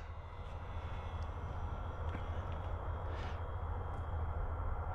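An FMS Pilatus PC-21 RC model airplane drones steadily overhead, a continuous motor and propeller whir holding level throughout with faint wind noise, no talking.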